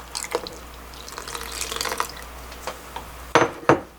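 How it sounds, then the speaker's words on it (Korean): Water being poured into a pot of freshly cooked flour paste for Korean bean-leaf water kimchi, sounding as a faint splashing trickle that ends in two louder sloshes near the end, with no talk. "이제 500ml의 물을 부어서"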